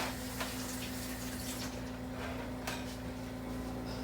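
Cherries rinsed under a running kitchen tap, a steady, soft water hiss with a low hum underneath and a few faint knocks, quiet and continuous.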